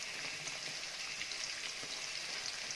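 Chopped ginger, garlic and finely cut green chili sizzle in hot oil in a pan, a steady close crackling hiss throughout with no talking.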